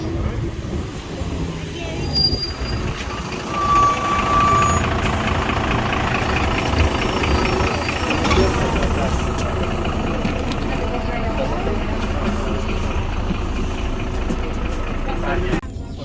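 A bus idles at a stop in Italy, producing a loud, steady, low engine rumble that continues throughout, with some faint high squeals in the first few seconds and people talking nearby.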